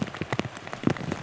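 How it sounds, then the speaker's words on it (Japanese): Large raindrops pound down in heavy rain over a flood-hit residential district in Akita City, Japan, a close, irregular patter of strong individual impacts with no voices. "大雨の被害を受けたこちら秋田市大隅地区ではこの時間大粒の雨が降っています。"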